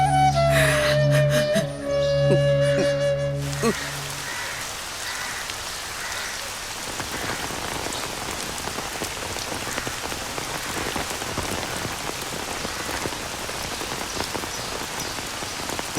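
Heavy rain pours steadily near a temple pond, a dense, loud hiss of drops on surfaces that takes over after a few seconds of tonal music and carries on unbroken to the end.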